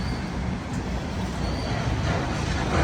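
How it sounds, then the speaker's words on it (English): A long train rolls past in Berkeley, its cars covered in graffiti, giving a steady, close rumble and rattle with no break and no one talking. "Wow, that's a long train."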